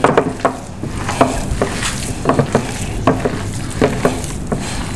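Raw egg being worked by hand into chapli kabab mince, giving repeated wet squishing and slapping pulses in a loose rhythm, close and moderately loud, with no talking.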